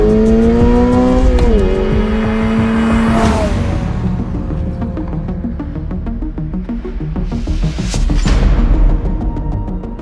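Toyota GR86 with a front-mounted naturally aspirated engine, six-speed manual and rear-wheel drive, revving hard through the gears, its pitch climbing, dipping at shifts and rising again, loud and close with tire noise.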